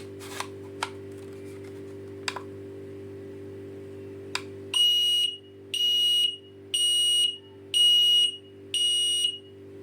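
A HikFire Hikvision smoke detector sounds its alarm in five loud, shrill, evenly spaced beeps, preceded by a few faint clicks and a low background hum.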